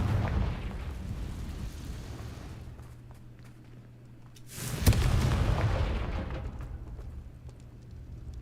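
A Confringo fire spell blast in Hogwarts Legacy, a deep rumbling boom that swells around the middle and slowly decays, with low roaring underneath throughout.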